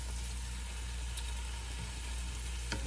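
Dandelion greens sautéed with salt in a pan give a steady, even sizzle with a low constant hum beneath and a faint tap near the end.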